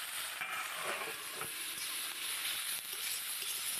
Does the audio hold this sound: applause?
no